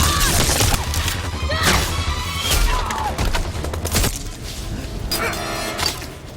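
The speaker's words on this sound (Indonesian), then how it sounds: "Neytiri membunuh beberapa tim Quaritch sebelum mereka melepaskan tembakan" Gunfire and crashing in a battle scene from the Avatar 2 film, with bursts of loud shots, heavy impacts and smashing debris layered over a dense cinematic score, ending in a rapid rattling volley.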